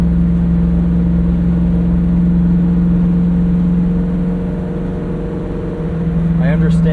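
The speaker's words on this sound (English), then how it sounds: "that is such a good sounding V8." A 1968 Ford Mustang Fastback V8 drones steadily from the cabin while driving, a deep continuous engine hum that is loud throughout, with a brief rise in pitch near the end.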